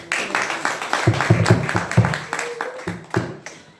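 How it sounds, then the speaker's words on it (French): Applause at a priestly ordination ceremony: a close crowd clapping in uneven bursts that thin out over a few seconds, with faint voices mixed in. "On applaudit très fort"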